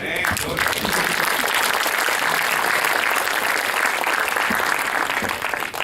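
Strong, sustained applause from a church congregation fills the space, dense and loud from start to finish, with a few voices mixed into the clapping.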